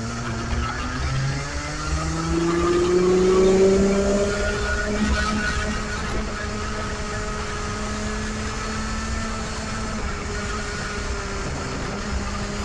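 A race car engine drones steadily at a racing circuit during a masters race, rising briefly then sagging and cutting out unevenly through a corner, with no voices over it.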